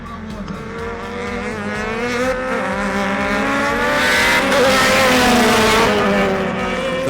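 Race cars competing at Wallerfield, Trinidad in CMRC round 2, with loud, sustained engine roars that rise and fall as several cars pass close by, their tones overlapping in a continuous, rising swell.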